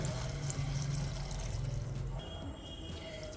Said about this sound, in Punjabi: ਤੇ ਸ਼ਲਗਮ ਦੇ ਵਿੱਚ ਅਸੀਂ ਪਾਣੀ ਪਾ ਦਵਾਂਗੇ